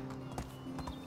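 Horse hooves gallop in the Medieval Dynasty video game, a soft, quick clip-clop of a few muffled hoofbeats over a low steady hum, with no talk.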